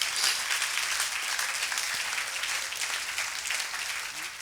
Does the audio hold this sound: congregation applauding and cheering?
yes